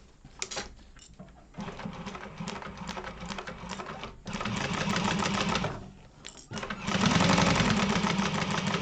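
A sewing machine bastes fabric in several bursts of rapid mechanical stitching, stopping briefly between runs and growing louder toward the end, close by with no talking.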